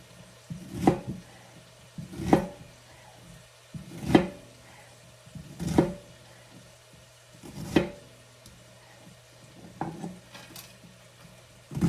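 A knife chopping through a whole onion on a cutting board, seven evenly spaced single strikes about every one and a half seconds, close and clear with quiet pauses between.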